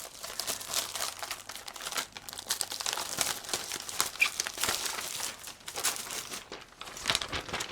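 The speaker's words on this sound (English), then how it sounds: "You just get out a piece of your laminating paper." A sheet of laminating pouch plastic for a 13-inch laminator is pulled out and handled, giving a steady run of close crinkling and crackling rustles with brief sharper crunches, no voices.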